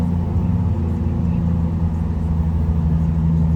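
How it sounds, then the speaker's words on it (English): A 2022 Chevrolet Corvette Coupe 2LT idles with its variable exhaust, a steady, deep rumble with a strong low hum that stays loud and even throughout. "You're going to hear that exhaust tame down a little bit with the variable exhaust here in a second."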